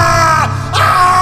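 A person screams loudly and close, a sustained raw yell that dips briefly in the middle before surging again, heard alone.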